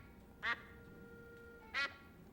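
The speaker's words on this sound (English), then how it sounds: "what kind of weird duck are you?" Two short, nasal duck quacks from the video game Escape from Monkey Island, evenly spaced about a second apart over a quiet hum, with no talking.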